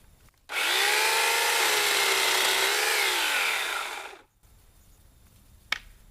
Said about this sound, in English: let's do the chainsaw